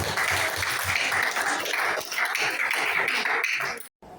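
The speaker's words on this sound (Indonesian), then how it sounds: "Oke, kita berikan tepuk tangan" An audience in a classroom session breaks into steady, lively clapping that carries on for about four seconds before cutting off abruptly.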